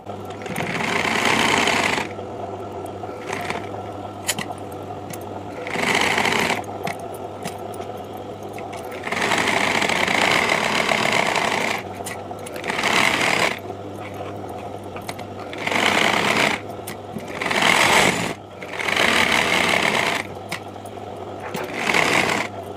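A sewing machine stitches the lining and main cloth of a blouse back panel, running in loud mechanical bursts of rapid whirring and clatter that stop and start repeatedly, close up with no talk.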